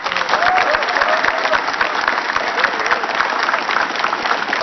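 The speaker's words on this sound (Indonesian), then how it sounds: "Tepuk tangan dulu semuanya" A room full of people applauding together, dense continuous clapping that holds steady and loud throughout, with a few raised voices faintly mixed in.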